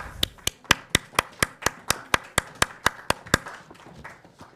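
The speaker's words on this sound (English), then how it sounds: "Again, a round of applause for all our women leaders." A round of applause for women leaders at a business event comes through as about a dozen crisp, evenly spaced claps in a quick steady rhythm, close and clear, fading out near the end with no voices.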